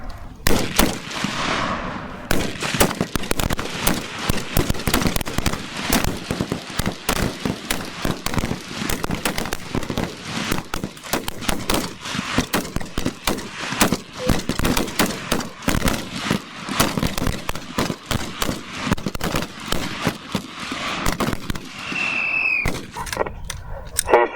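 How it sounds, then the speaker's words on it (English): Rapid rifle and pistol gunfire at a National Guard shooting match, dense overlapping shots cracking continuously from multiple shooters on the firing line for over twenty seconds, loud and close. "Watch and shoot. Watch and shoot. Fire."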